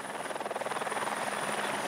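A military helicopter, one of the army craft working over the French Guiana jungle, gives off a loud, close, steady rotor chop with a high turbine whine, and no voices can be heard.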